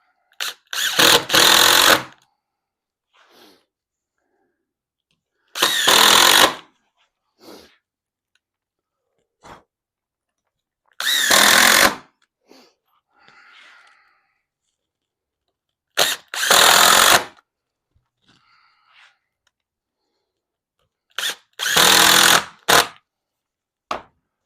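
Power drill driving screws into a classic wooden dresser, five separate loud bursts of a couple of seconds each with short pauses between, and faint handling clicks in the gaps.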